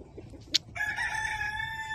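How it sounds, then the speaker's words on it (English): A rooster crows once, loud and close, in a farmyard at sunrise, preceded by a faint cluck and a brief sharp sound, with no talk. "It's a rooster."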